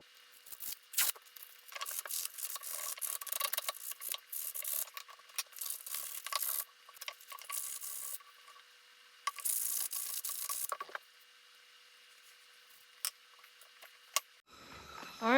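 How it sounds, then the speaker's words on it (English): Sanding a green wooden stick by hand, irregular bursts of dry, close scratchy rubbing strokes with brief pauses between them, ending with a quick handling noise. "I'm gonna start sanding it, getting some of the imperfections out"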